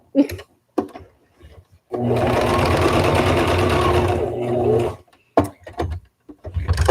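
A sewing machine runs in one steady burst of about three seconds while top stitching a face mask, a loud close motor hum with rapid needle chatter, framed by brief handling clicks before and after.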